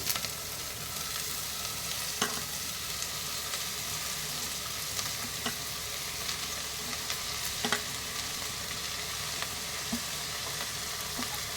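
Chopped onion greens fry in a hot pan with a steady, close sizzle, broken by occasional sharp crackles and pops as the leaves hit the oil, with no voices.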